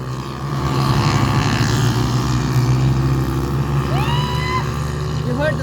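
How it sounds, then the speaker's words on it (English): Several motorbikes rev hard and roar off together on a dirt track near Mt Pinatubo, a loud, sustained engine drone close by with brief excited voices near the end. "Those motorbikes just took off."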